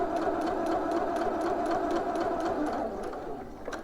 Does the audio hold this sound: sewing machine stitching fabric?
yes